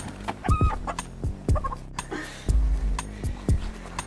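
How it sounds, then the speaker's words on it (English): A pet chicken clucks close by in several short, punchy bursts, with a rooster-like call mixed in, over a busy outdoor background. "This is my chicken."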